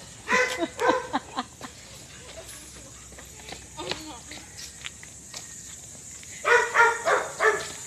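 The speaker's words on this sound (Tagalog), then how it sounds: "Bakit may aso dyan?" A dog barks in short clustered bursts, a few near the start and a louder run toward the end, with quiet scattered taps like footsteps in between, heard fairly close.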